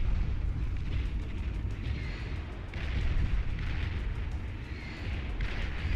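Battleships blown apart in the strategy game Beyond All Reason: dense, continuous rumbling explosions and booming artillery-like bursts fill the whole stretch, loud and heavy with no speech over them.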